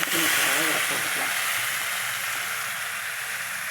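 Chopped yellow pumpkin tumbles into a hot frying pan for Tamil-style poriyal, setting off a loud, steady sizzle and hiss that fills the pan after a brief clatter of pieces landing.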